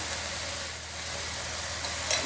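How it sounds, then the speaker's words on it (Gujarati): Aubergine and potato curry with red chilli, turmeric, coriander-cumin powder and salt sizzles softly in a pan as it is stirred, with a steady frying hiss throughout and a slight scrape near the end. "આપણે મસાલાને પણ બધી સામગ્રી જોડે એકવાર મિક્સ કરી લઈશું"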